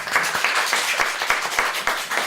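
Audience at a media-monitoring panel discussion applauding to welcome a speaker, a brisk, fairly loud burst of many hands clapping close by, with distinct individual claps audible through the crowd.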